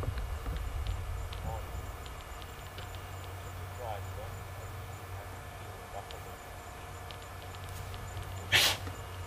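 A single sharp sneeze bursts out near the end during a safari drive, standing out above a faint, continuous outdoor rumble and low background noise.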